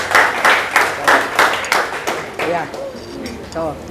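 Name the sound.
clapping at birthday party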